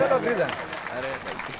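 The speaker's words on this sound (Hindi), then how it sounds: "जोरदार सम्मान में जगदीश भाई के लिए ताली बजाए" Audience clapping at a Bhagwat Katha religious recital, a brief burst of hand claps heard beneath a speaker's amplified voice.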